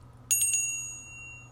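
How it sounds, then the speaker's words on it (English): A small, heavy metal bell is struck once and rings with a bright, clear tone, then a sustained shimmering decay that lingers close and alone over a quiet room. "you have this little bell here. It's quite heavy. It kind of spins and swirls here. But here's the sound."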